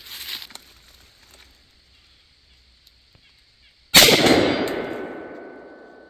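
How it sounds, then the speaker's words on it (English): A single sharp gunshot at an outdoor shooting range, fired at a steel plate target from a rifle fitted with a Bushnell TRS-26 red dot sight, cracking loudly after a quiet pause and ringing off with a long fading tail. "we're just going to take some shots here"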